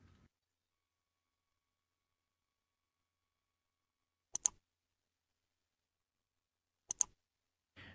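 A computer mouse clicks while the Selection tool is chosen in Cognitech Video Investigator 64 video stabilization software. Two short, sharp double-clicks stand out in otherwise near silence, spaced a few seconds apart.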